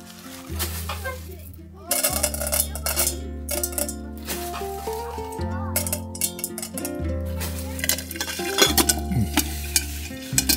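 Steady sizzling of popcorn kernels in plenty of hot oil in a pot, with metallic scraping and stirring over it and occasional clinks, close up.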